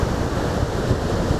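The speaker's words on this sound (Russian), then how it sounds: "море такое бурное, такие вот волны. Ветер очень сильный с моря дует" Strong sea wind buffets the microphone while big waves roll onto the shore at Paphos, Cyprus, a continuous low roaring rush with no voices.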